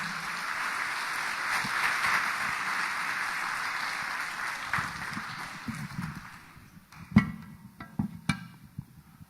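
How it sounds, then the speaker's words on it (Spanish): Broad applause from a congregation at a Bible seminar welcoming a pastor, a full steady wash of clapping for several seconds that fades away, leaving a few scattered claps and knocks. "Vamos a dar un fuerte aplauso."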